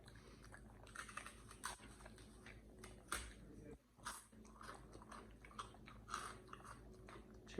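A dog eats leftover greens from the dinner table, with soft biting and chewing sounds coming in short irregular bursts close to the microphone, along with light clatter and quiet background voices.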